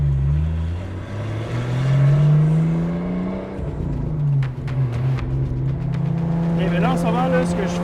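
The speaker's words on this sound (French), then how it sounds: "ce que je filme, c'est un auto de course" Toyota Supra race car with a 2JZ engine running loudly nearby, a steady droning engine note rising and falling in pitch, with people talking over it throughout.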